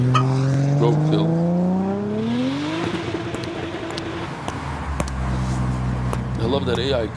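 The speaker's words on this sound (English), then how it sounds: "that AI car that just took a right turn, went over the lawn, drove away" A car takes a right turn, skids over a lawn and drives away, its engine whine climbing steadily in pitch before giving way to rough, scraping road noise with sharp clicks, a voice faintly underneath.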